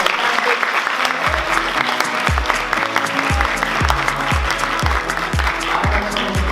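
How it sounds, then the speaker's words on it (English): Audience applause at a tech, community and entertainment event fills the room steadily and loudly throughout, a dense wash of many hands clapping, with rhythmic low thumps sounding underneath. "Let's give a warm round of applause to all."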